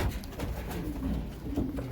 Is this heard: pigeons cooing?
yes